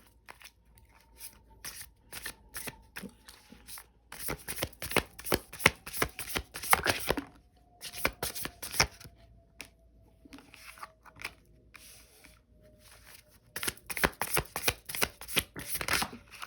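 Tarot cards are shuffled by hand in repeated riffling, flicking runs, close and fairly quiet, with brief pauses between bursts.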